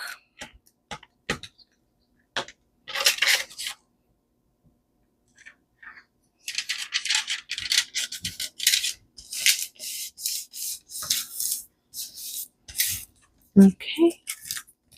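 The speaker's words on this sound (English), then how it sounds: "So we're just gonna glue stick this down." Glue stick rubbed back and forth across paper during a simple craft, giving short dry scraping strokes in bursts, close and fairly quiet, with brief pauses between passes.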